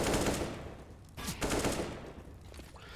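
Rapid automatic gunfire in Counter-Strike on the Overpass map during a competitive match, heard as two loud bursts of rattling shots separated by a brief pause, with no voices.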